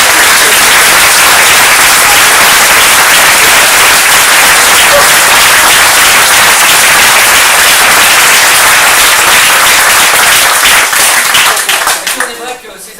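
Loud, dense applause from a crowd fills the room without a break, then fades quickly near the end.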